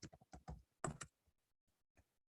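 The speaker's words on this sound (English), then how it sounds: "excuse my typing" Typing on a computer keyboard, a quick burst of close, crisp key clicks that tails off into a few sparse, fainter taps.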